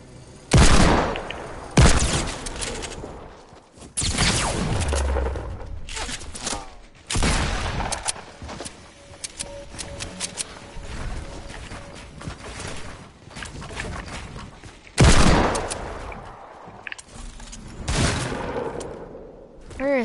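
Bursts of video game shooter gunfire, with scattered shots and rapid fusillades that rise and fade at varying distances, mixed with thumps and a player talking over the action.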